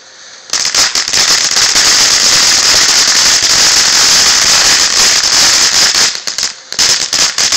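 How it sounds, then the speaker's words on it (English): Fireworks device spewing flares from its holes with a loud, sustained crackling hiss, dense sparkling pops lasting several seconds before briefly dropping out and resuming. "Oh, it's shooting flares."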